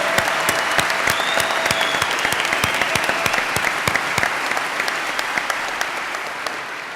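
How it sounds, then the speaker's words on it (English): An audience at a 1999 WTO protest people's assembly claps for the panelists, a loud, even wash of applause that carries on throughout and slowly tapers toward the end. "Another big round of applause for all of our panelists."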